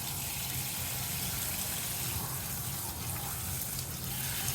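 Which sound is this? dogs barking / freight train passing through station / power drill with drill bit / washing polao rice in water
washing polao rice in water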